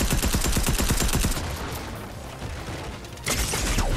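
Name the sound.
gunfire hitting the player in the video game Fortnite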